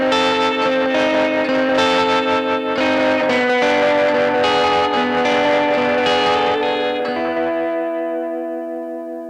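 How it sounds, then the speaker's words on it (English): Electric guitar played through the Dystopia effects pedal, heavily distorted and swelling with reverb and chorus-like shimmer, sustained chords ringing loud for several seconds before the final chord decays slowly into a long echoing tail. "I want to play the pedal and show you how it sounds"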